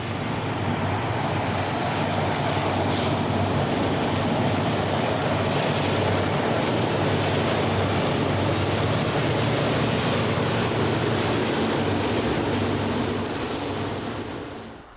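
A loaded coal train hauled by General Electric AC4400 diesel locomotives rolls past in a loud, continuous rumble of wheels and cars, with a thin metallic squeal rising above the roar for stretches.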